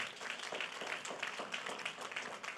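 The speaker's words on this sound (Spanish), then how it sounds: "Un aplauso al Señor por esa victoria." Applause from a church congregation, a dense steady wash of many hands clapping at moderate level throughout, with no voices standing out.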